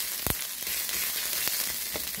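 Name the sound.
onions and sweet peppers frying in a pan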